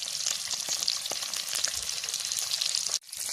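Spice-rubbed boiled eggs fry in a wok, laid in one by one to brown lightly, giving a close, steady, bright sizzle that runs without a break, then cuts out abruptly near the end before faintly resuming.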